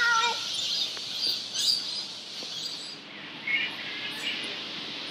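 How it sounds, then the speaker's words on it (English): Lorikeets chirping in trees on a warm evening in Cairns, a dense, continuous high twittering chorus from a large flock at moderate distance, steady with small swells, with no talk over it. "all those birds you can hear are lorikeets"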